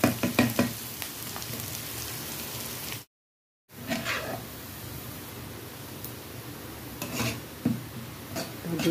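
Chopped onions and green chillies sautéing in a hot pan, a steady close sizzle with occasional stirring scrapes, broken by a brief silent gap.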